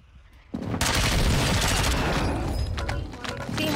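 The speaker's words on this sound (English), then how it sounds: "Friendly airstrike on the way." In a military shooter video game, a friendly airstrike erupts suddenly into a loud, sustained roar of explosions and rapid gunfire that barely lets up for the remaining seconds.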